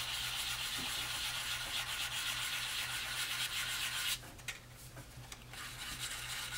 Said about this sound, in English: then I just grab this and then I start sanding those circle motions